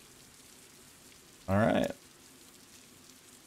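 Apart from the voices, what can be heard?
rain at night in a video game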